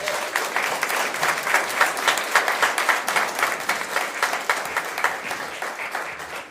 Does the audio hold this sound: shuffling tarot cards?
no